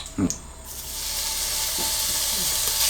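Steak sears in a frying pan as beef stew gets started, a steady close sizzle and hiss that swells after a brief scrape at the start and carries on alone.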